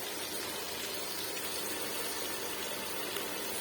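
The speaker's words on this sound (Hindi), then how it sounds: "अभी पानी और डाल दिया" Water pours steadily into a cooking pot of tinde and bade gosht on the stove, a continuous broad gushing splash lasting a few seconds with no voices.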